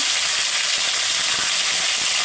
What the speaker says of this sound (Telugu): తాలింపు గింజలు అయితే బాగా వేగాయి కొంచెం కరివేపాకు